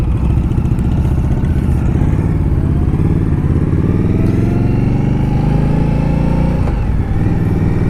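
A 2018 Indian Scout Bobber ABS motorcycle engine and exhaust rumble loud and steady while riding, the deep note climbing as the revs rise and briefly dipping before pulling again.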